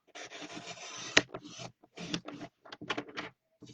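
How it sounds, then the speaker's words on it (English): Paper trimmer blade rasping through layered card for a split circle card, heard as a series of short scraping strokes with brief pauses, close and fairly quiet, with no talking. "Start with the less of the layers for the trimmer to go through"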